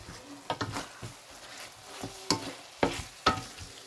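Homemade karahi masala frying in a pan while stirred, soft sizzling punctuated by a few sharp, loud scraping knocks of the spoon against the pan.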